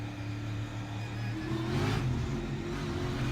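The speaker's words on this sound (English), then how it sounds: "He went to the throttle, spun the rear tires, car turned to the right, jumped back out of the throttle." A NASCAR Cup Series car's engine on the Charlotte Roval revs up as the driver goes to the throttle and the rear tires spin, a loud, close roar that surges and then steadies.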